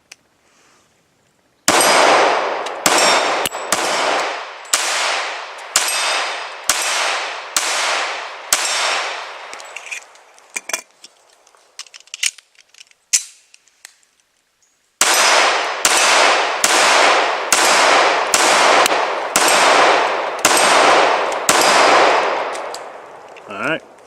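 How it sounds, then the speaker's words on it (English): Glock pistol emptying a 15-round magazine outdoors: two rapid strings of loud, evenly spaced gunshots separated by a quieter pause with faint clatter and movement, each shot sharp and close. "I'll do one 15-round mag through the Glock"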